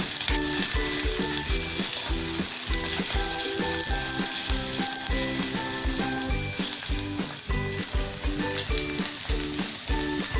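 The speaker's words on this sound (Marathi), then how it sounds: "बारीक चिरलेला कांदा टाकायचा आहे कांदा छान आपल्याला परतून घ्यायचा आहे" Finely chopped onion sautéing in a pan of hot oil with cumin, a loud, continuous sizzle broken by regular scraping and stirring strokes, heard alone without any voices.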